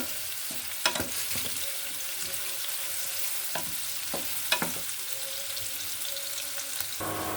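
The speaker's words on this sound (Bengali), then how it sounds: "পেস্টটা আমি একটু লাল করে ভেজে নিব" Spice paste frying in a pan: a steady sizzle throughout, broken by occasional sharp scrapes and clinks of stirring, close up and without any voices.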